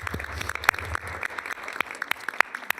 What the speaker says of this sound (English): One big round of applause for all of our sponsors,